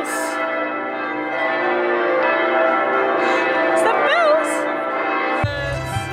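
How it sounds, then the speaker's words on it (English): Church bells ring out over Florence, a dense sustained wash of layered metallic tones filling the air, loud and close, with a brief shift in texture near the end. "Are the bells!"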